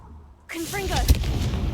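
The Confringo fire-blast spell is cast in Hogwarts Legacy: after a brief hush, a sudden loud burst erupts and rumbles with crackling, explosive force for over a second.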